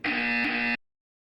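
A loud, steady electronic buzzer from the video game Portal 2 holds one harsh tone for under a second, then cuts off into silence.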